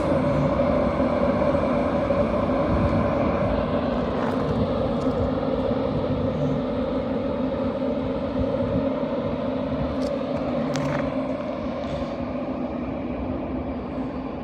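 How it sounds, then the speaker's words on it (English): An LNER Intercity 225 passenger train, running York to London King's Cross, pulls out of Grantham station on the East Coast Main Line with a loud, sustained rumbling roar and a whining drone that slowly eases as it moves off. "Departing now will be your 1308 LNER Intercity 225 set from York to London King's Cross"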